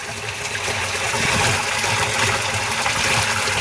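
Clean water flows in a steady, continuous gush with an even hissing rush, close by and alone without any talking.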